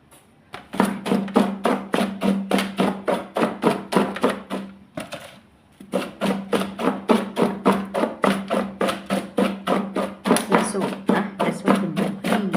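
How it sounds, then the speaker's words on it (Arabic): Molokhia leaves chopped by hand with a rocking mezzaluna (mekhrata): a steady run of sharp, regular blade strikes on a board, close and fairly loud, with one short pause near the middle before the rhythm resumes. "ده صوت الملوخية"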